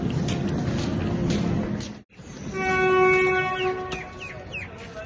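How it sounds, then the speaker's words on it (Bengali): Vande Bharat train at Chandigarh railway station, its horn sounding in sustained harmonic blasts over a loud, steady rumble of rail and platform noise, with a brief drop in sound midway before the horn rises. "চণ্ডীগড়ের স্টেশনে নেমেই কিন্তু আমি বন্দে ভারত ট্রেনটা দেখে নিয়েছি।"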